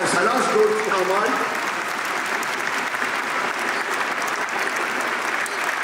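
Audience applause at a dance academy's 25th anniversary concert in a large theatre, steady massed clapping filling the hall, with a voice speaking over it at the start.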